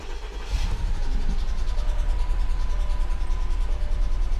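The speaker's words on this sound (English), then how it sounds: "Let's see if the oil is going to make a difference in the way the engine sounds and runs" A Mercedes S55 AMG engine fires up and settles into a loud, steady, close-up idle with a constant low rumble and no talking.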